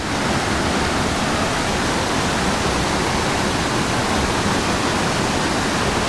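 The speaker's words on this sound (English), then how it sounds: "That's a big waterfall." A large waterfall near a hiking trail bridge on the way to Comet Falls roars as a loud, steady, broadband rush of falling water with no break and no voices.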